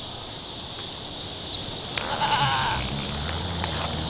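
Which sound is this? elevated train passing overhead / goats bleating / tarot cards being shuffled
goats bleating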